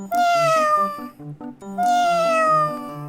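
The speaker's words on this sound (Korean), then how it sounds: "뭐야, 고양이네?" A cat meows twice, loud and close, each long drawn-out cry falling in pitch, with a short pause between them.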